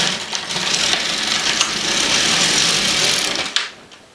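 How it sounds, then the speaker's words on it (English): LK150 knitting machine carriage sliding back and forth across rows in plain knitting, a steady close rasping whir with light clicks, ending in a sharp clack as it stops. "Now I knit 10 rows."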